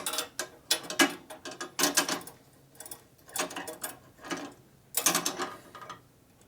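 Someone works on a fitting on a 1965 Harley-Davidson Panhead FLH with a 74ci motor, making close, intermittent metallic clicks and ratcheting clatter in short bursts separated by pauses.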